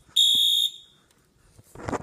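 A single short, shrill beep comes from a new fire alarm muffled with tape, followed by a quiet pause and then a burst of close handling rustle.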